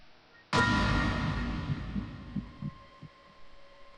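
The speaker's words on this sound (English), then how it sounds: "Junpei felt his heartbeat quicken" Heartbeat sound effect from the video game 999 (9 Hours 9 Persons 9 Doors): a sudden swell of low hum followed by steady, muffled throbbing thumps that slowly fade, with no talking.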